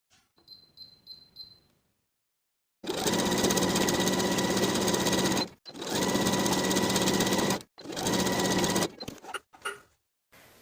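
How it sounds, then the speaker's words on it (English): A sewing machine runs gathering stitches around a dress skirt: a few faint clicks and beeps, then three loud, close, sustained runs of rapid stitching with brief stops, ending in short bursts. "we're going to sew gathering stitches all the way around"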